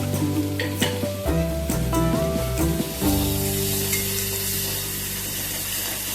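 Spice paste tipped into a hot pan for a soybean and chana dal, a loud crackling sizzle with stirring clatter at first that settles into a steady hiss, no talking.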